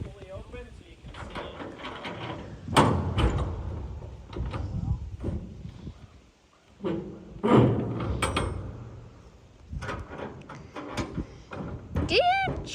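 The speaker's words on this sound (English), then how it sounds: "Open up the side doors, fully open, so you can" The side doors of a 20 ft high cube steel shipping container are swung fully open, giving scattered metallic clanks, scrapes and thuds spread across the stretch, with people talking throughout.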